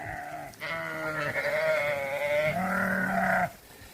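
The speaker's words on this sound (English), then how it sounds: "We're moving the sheep." Sheep being moved through tall summer pasture give a loud, sustained bleat up close, a long wavering cry lasting about three seconds, with a second animal's voice overlapping near the end before it fades to quiet field noise.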